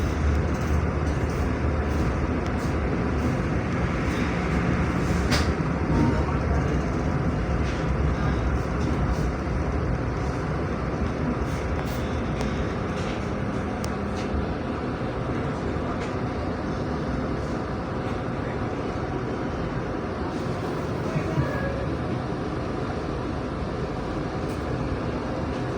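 Ambience of a busy Kalisetail train station around the Wijaya Kusuma train, with a steady low rumble of idling rail equipment, distant clanks and a murmur of people over nearly half a minute.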